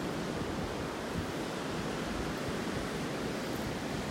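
Powerful ocean waves roll onto a beach at high tide in North Naples, Florida, a dense, constant wash of surf noise with a slight wind rumble and no talking.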